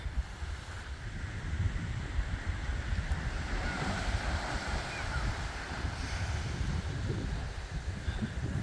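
Waves wash steadily onto the beach at Mliha, Mayotte, a continuous surf roar mixed with wind buffeting the microphone and no break in the sound.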